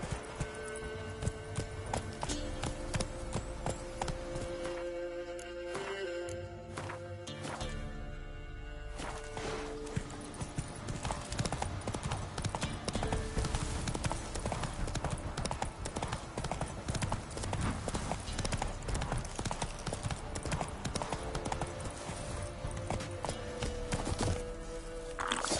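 The horse Roach gallops in The Witcher 3, heard as a rapid, steady clip-clop of hoofbeats, close and loud, with a brief lull before the hooves pick up again, while voices talk over the action.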